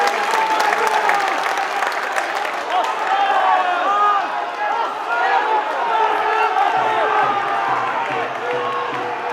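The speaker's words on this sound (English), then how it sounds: "Listen to the roar of the home crowd." A home crowd roars at a rugby league match as the Vikings attack, a loud sustained swell of cheering and whooping with a commentator talking over it.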